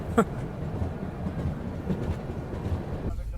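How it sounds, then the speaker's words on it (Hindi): Jhelum Express passenger train running just after leaving Talbehat station, heard from onboard as a steady low rumble with faint clickety-clack of wheels on rail joints throughout. "गाड़ी अभी तलबे हाथ स्टेशन से निकल गई है।"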